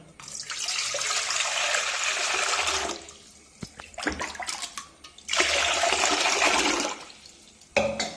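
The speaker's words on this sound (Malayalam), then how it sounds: "ഇനിയും പച്ചക്കറികളെ കഴുകിയെടുക്കാം" Running water from a tap pours over vegetables being washed, coming in two strong bursts with a quieter gap of splashes and handling noises between them, then a short final gush.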